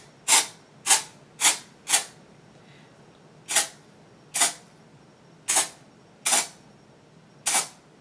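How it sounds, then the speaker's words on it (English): Nine short, sharp hissing bursts from an aerosol dry shampoo can sprayed onto a wig from about three feet away, four in quick succession, then five more spaced out, each a brief close-up spritz. "I'm gonna take the spray and I'm holding it back about 3 feet"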